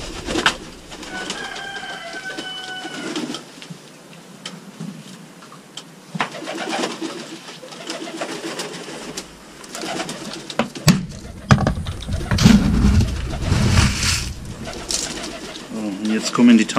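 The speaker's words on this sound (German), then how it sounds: "So, und jetzt kommen die Tauben." Lynx pigeons coo and call near and loud after feeding, with someone talking over them and occasional rustling and wing flaps as the birds gather.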